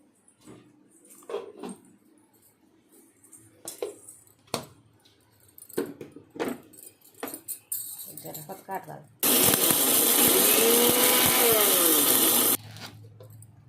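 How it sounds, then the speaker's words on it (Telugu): A kitchen mixer grinder whirs loudly and steadily for about three seconds as it grinds raw mango with chillies and salt, after a stretch of clattering and talk. "రోట్లో ఎట్ట దంచాలో ఆ విధంగానే మిక్సీలో చేసి చూపిస్తానండి. చూడండి, మిక్సీ పట్టాలండి ఇది."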